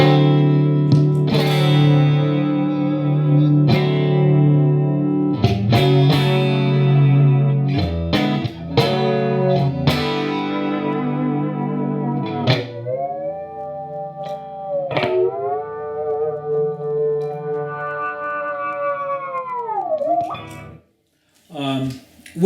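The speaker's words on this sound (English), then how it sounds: "You can still hear the amp." Distorted electric guitar through an amplifier with effects, first sustained chords, then bending, wavering single notes with heavy squash and reverb, loud and close, ending in a couple of short hits.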